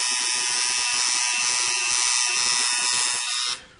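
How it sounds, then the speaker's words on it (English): Tattoo machine fitted with a four-needle shader working on skin, a steady close electric buzz that runs nearly unbroken and cuts off abruptly at the end. "With a 4-needle shader, again, it will allow you to get into the tight areas and still get that airbrush effect on the tattoo."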